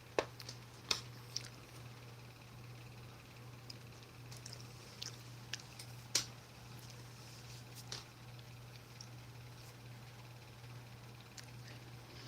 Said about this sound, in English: Apparently, the freeze-dried Skittles are very crunchy.